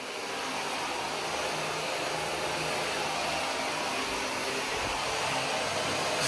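A shower runs in a luxury bathroom costing $250,000, giving a loud, steady broadband hiss of spraying water that holds evenly for several seconds with no voices.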